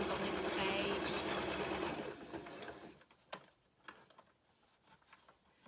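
A sewing machine whirs steadily for about two seconds while stitching a re-usable fabric Christmas cracker, then stops, leaving a few faint clicks and ticks in a quiet room.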